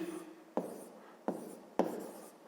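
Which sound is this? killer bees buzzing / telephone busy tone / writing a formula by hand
writing a formula by hand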